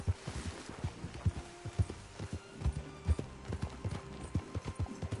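A horse named Duque gallops at full speed in Red Dead Redemption 2, its hooves pounding in a steady, rapid rhythm that stays close and even throughout, with no talking.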